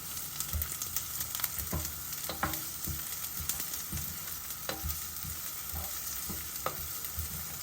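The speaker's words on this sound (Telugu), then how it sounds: "ఆనియన్స్ వేస్తున్నాను ఇప్పుడు ఆనియన్స్ కొంచెం వేగాలి" Chopped onions frying in a hot pan for a cabbage Manchuria recipe, with a steady sizzle throughout and repeated close spoon scrapes and stirring clatters, no talk.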